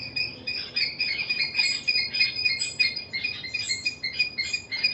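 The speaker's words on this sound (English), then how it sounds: "Birds, chipmunks." Birds chirp outdoors in a dense, continuous chorus of high, overlapping calls. The calls pulse unevenly over a soft background hum, and no one speaks.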